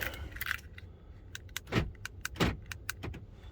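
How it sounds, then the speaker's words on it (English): A car smart key is pulled from a pocket, its ring of keys jingling in a bright, close, irregular rattle with a couple of louder clinks near the end. "Grab our smart key out of that stupid pocket"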